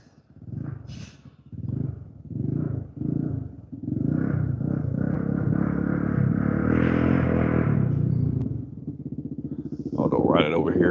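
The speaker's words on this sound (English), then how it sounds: "I think that guy's got some problems with his motorcycle. I don't think they're supposed to backfire like that." A nearby motorcycle with a problem that makes it backfire, heard as a run of uneven throaty bursts that then settle into a sustained loud revving drone before easing off, with a voice briefly at the end.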